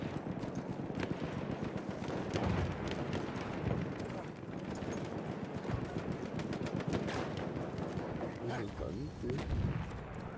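Dense, continuous assault-rifle gunfire from Battlefield 1, with rapid bursts and distant booms layered over a busy battlefield din throughout.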